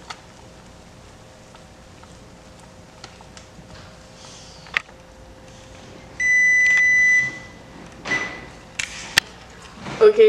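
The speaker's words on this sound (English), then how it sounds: "Okay, so our timer went off." Kitchen timer going off while rye flakes cook on the stove, a loud steady electronic beeping tone that lasts about a second in the middle of the clip, followed by scattered clicks and clatter.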